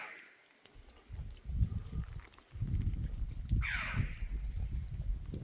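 A bird calls in a Moroccan gorge, the faint, distant cry echoing off the rock walls over a low wind-like rumble.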